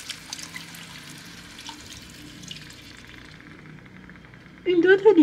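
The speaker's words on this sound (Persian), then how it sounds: "الان دیگه باید آب رو بهش اضافه کنیم." Water poured from a glass into a pot of Persian chicken stew with coriander and plums, a short splashing gush near the end, after someone talks over the quiet kitchen.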